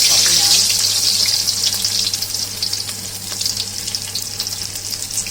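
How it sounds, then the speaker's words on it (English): Ngor hiang rolls deep frying in hot oil in a wok, giving a loud, steady bubbling hiss that stays close and continuous, easing slightly over time. "It's ready to be deep fried."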